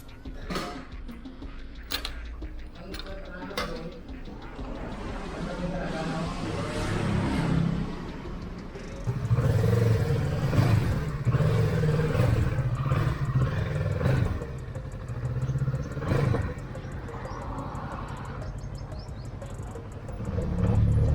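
A Kawasaki 650cc motorcycle engine roars and revs repeatedly on a test ride, with loud throttle surges and sharp bursts amid wind and handling noise.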